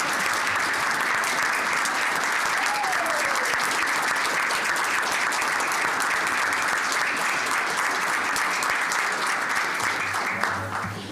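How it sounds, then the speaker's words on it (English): A long, sustained round of applause at a city council meeting honoring junior high state champions, many hands clapping in a dense, even wash that stays loud for about eleven seconds before easing at the end. "Let's give a round of applause to them."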